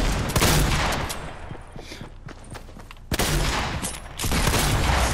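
Bursts of SCAR rifle fire in Fortnite Battle Royale: a loud rapid volley, a quieter patch of scattered distant shots, then two more heavy bursts close by.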